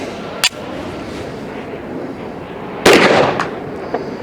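A 10mm Auto pistol loaded with hot 180 grain hardcast lead rounds fires two sharp, loud reports outdoors, the second sharper and ringing longer, separated by a couple of seconds of background hiss.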